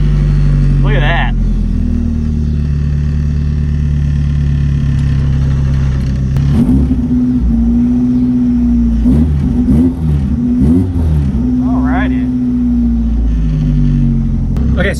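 Rotrex-supercharged Mazda Miata engine on a dyno, starting up, then running with a loud steady drone and several rising revs, with brief speech over it.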